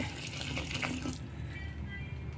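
A quick rush of water pouring into a vessel for about a second, then stopping, leaving a low hum.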